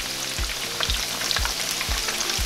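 Stuffed vegetable tofu deep-fries in hot oil, giving a dense, continuous sizzle and crackle, with soft low thuds recurring about every half second, close and alone.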